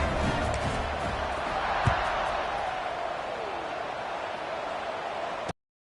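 Football stadium crowd at a Boston College versus Temple game buzzing after a score, a steady broad roar of many voices filling the whole clip, with a brief thump near two seconds and a commentator talking over it.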